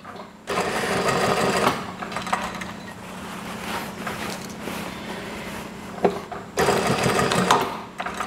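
A sewing machine stitches a Scout badge onto fabric, running in steady continuous bursts with brief pauses between, close and fairly loud with no talk over it.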